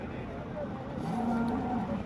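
A cow lows with a short, fairly faint moo amid other cattle at the Modnimb livestock market in Maharashtra, set against low background murmur.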